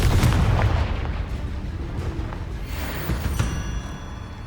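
Bombarda explosion spell cast in Hogwarts Legacy, a loud booming blast at the start that rumbles and decays over several seconds, followed by smaller crackling impacts.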